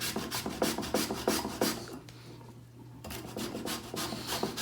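A fresh ingredient is grated by hand for a New England boiled dinner, rhythmic rasping strokes close up, pausing for about a second before the scraping resumes.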